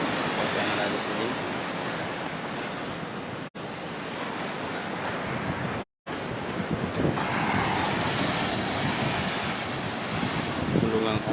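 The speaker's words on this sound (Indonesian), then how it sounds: "Gulungan ombaknya ya cukup tinggi, terus." Tall waves rolling in against a fishing harbour dock at PPI Beba, a steady loud roar of surf mixed with wind buffeting the microphone, with two brief dropouts.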